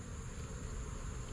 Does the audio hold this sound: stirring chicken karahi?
no